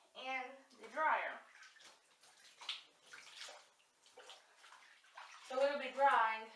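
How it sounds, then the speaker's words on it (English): A stream of water rinses a bathtub shower wall, spraying and splashing in uneven bursts, while a person talks briefly at the start and again near the end. "I need to rinse off this wall back here"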